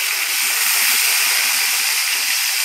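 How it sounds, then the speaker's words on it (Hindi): Cumin, a Kashmiri red chilli and chopped onion sizzle in hot oil with a loud, steady hiss that holds close and unbroken throughout. "अभी तेल में मम्मी ने ज़ीरा डाल दिया है, एक कश्मीरी लाल मिर्च, और साथ ही साथ जो कटा हुआ प्याज था वो भी डाल दिया है इसमें"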